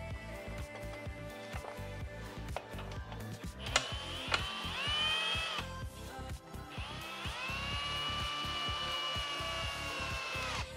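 A cordless power drill drives screws into a universal rear cargo rack during installation, delivering several close bursts of whirring motor with rising pitch, separated by brief pauses and clicks.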